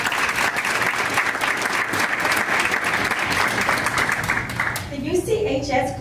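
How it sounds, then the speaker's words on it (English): A school board meeting audience applauds, loud, close clapping from many hands that fills the room, then stops abruptly as a voice starts talking. "Let's give him a round of applause."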